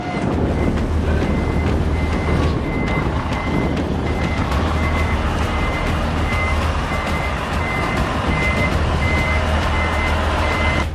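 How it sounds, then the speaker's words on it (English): A heavy-duty forklift unloading a five-story container stack on soft, uneven ground keeps up a continuous loud diesel engine rumble with insistent repeating reversing beeps throughout. "A heavy-duty forklift works to unload a 5-story container stack."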